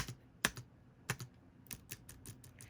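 Keys on a ThinkPad T420s laptop keyboard are typed in a quiet room, giving sparse, uneven clicks at close range with short pauses between presses.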